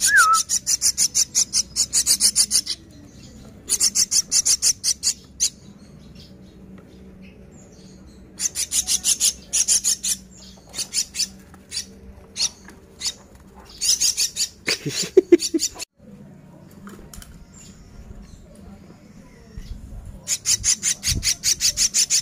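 Hybrid starling-like bird, coloured like a white starling, repeatedly calling in bursts of shrill, rapid whistled chirps, close and loud, with short pauses and low background hum.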